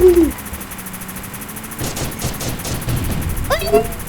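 Video game gunfire, a burst of rapid synthetic shots midway followed by more bangs and a whistling effect, loud and close with excited talk mixed in.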